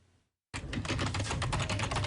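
Fast typing on a computer keyboard, close and crisp, a rapid stream of key clicks starting abruptly after a brief quiet moment and continuing unbroken.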